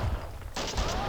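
Gunfire in the video game Max Payne 2, a short burst of sharp, loud shots that erupts about halfway through after a brief quieter moment.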